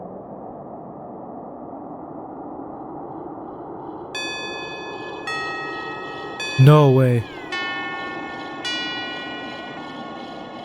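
Synthesized gong tones from a modular VCV Rack patch, a few bright sustained metallic strikes layered with a short swooping low burst, over a steady hum, with a brief spoken exclamation.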